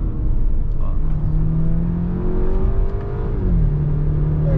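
A 2013 BMW X1 with a 245 hp 2.0 turbo engine accelerates hard to overtake, its engine note climbing in pitch and then dropping at a gear change, heard from inside the cabin under road noise.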